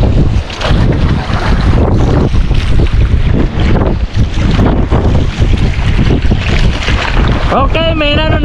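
Strengthening wind roars loudly and steadily across a small fishing boat at sea, buffeting the microphone over the wash of waves. A voice briefly cuts in at the end.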